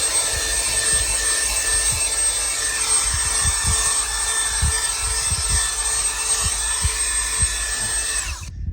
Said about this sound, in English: I've got a nylon brush on my drill